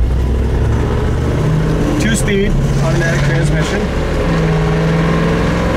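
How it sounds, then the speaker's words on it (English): A 1964 Buick LeSabre V8 with two-speed automatic transmission idles with a steady low exhaust rumble, close and loud throughout, while someone talks over it. "Exhaust sounds pretty great."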